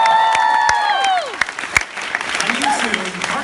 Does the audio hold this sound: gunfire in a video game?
no